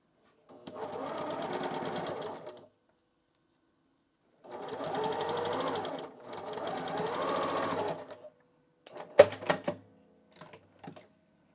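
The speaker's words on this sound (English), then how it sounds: "Are you sewing?" Sewing machine stitching a plushie in two long steady bursts of rapid mechanical whirring, separated by a pause, followed by a few sharp clicks and taps of handling.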